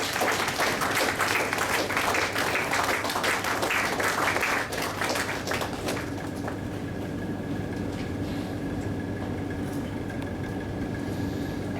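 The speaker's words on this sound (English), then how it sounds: "Can we have a round of applause?" An audience at an FSAI Goa chapter event applauds, with loud, dense clapping for about six seconds before it drops away, leaving a quieter room with scattered claps and a steady hum.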